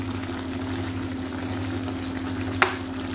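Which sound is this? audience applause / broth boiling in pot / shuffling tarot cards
broth boiling in pot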